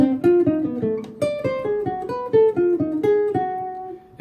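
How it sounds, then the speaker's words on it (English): Clean jazz guitar plays a common diminished-scale lick, a quick run of about a dozen distinct plucked notes in steady rhythm, close and clear with no talking. "This first one here is an extremely common diminished lick, very cliche"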